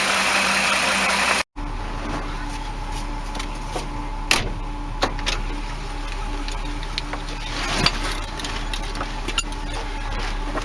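A boat engine with its distributor moved one tooth runs steadily for a test drive, a constant mid-pitched drone with occasional clicks and knocks over it, briefly interrupted near the start.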